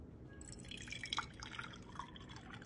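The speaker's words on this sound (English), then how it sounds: "the second step is to put the water into the cup" Water is poured into a plastic calibration cup for a Kaixin bladder scanner, with soft, faint dripping and trickling heard up close. A few small bright drops stand out and no one speaks.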